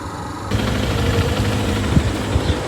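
An uncle's motorcycle underway on the road, its engine thrumming in a steady, throbbing rumble that grows louder after a moment, close and continuous with no talk.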